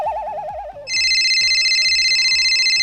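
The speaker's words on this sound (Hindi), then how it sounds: "ये तो उन्हीं का फोन आ रहा है।" A telephone ringtone plays loud and close, a warbling electronic ring giving way to a steady repeating tone, with a rhythmic beat pulsing underneath and no talk.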